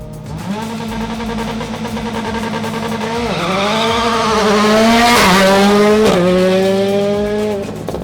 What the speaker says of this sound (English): they rocket off the start line with acceleration from 0 to 60 miles in just over 1 second